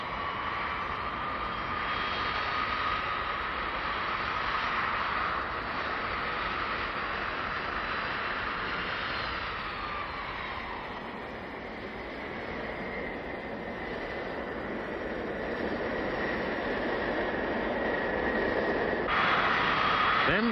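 A Boeing 747 taxiing through a series of tight turns during taxi tests, a steady loud jet engine roar that stays continuous throughout, with a slight dip midway and a rise again near the end.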